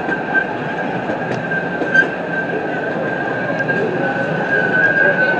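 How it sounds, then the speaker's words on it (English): An amusement park train at Knoebels rumbles steadily along the tracks near the station, with a constant mechanical drone, faint clicks and a thin high whine riding over it. "People waiting to get on this train."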